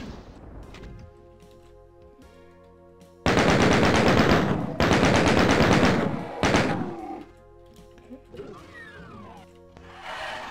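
Rapid weapon fire in the video game Doom 2, loud sustained bursts of automatic shots over the game's background music, followed by quieter game sounds.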